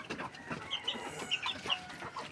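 Hens clucking and softly chattering close by, a busy mix of short calls with some higher squawks over a low barnyard background.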